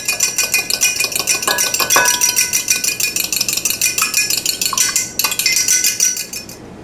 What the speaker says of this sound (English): I'm simply going to beat them with my fork a little bit and add them to the coconut.